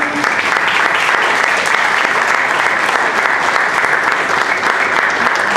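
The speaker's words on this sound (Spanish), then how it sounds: "pido para él por favor un aplauso" An audience at a Federico García Lorca performance breaks into sustained applause, a dense, even wash of many hands clapping at a loud, steady level throughout.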